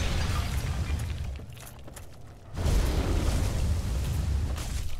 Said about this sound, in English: These things they breathe fire?